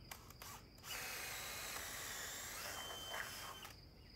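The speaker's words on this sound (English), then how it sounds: "you can set it to drill setting, maximum speed" A power drill set to drill mode at maximum speed boring through wood, a continuous whining, grinding buzz that holds steady for several seconds after a brief start-stop, close up and without talking.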